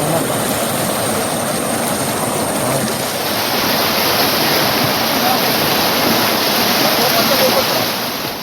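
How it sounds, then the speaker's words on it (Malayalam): The flooding Pampa River rushes over the Arayanjilimon causeway at Ranni, making a loud, continuous roar of churning water that holds steady throughout. "പമ്പാ നദിയിൽ ജലനിരപ്പ് ഉയർന്നതോടെ റാന്നി അരയാഞ്ഞിലിമൺ ക്രോസ് വേയിൽ വെള്ളം കയറി."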